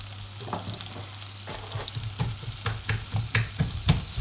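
Garlic sautéing in a frying pan: a steady sizzle with a low hum beneath it, broken by sharp clicks and stirring scrapes that come faster toward the end.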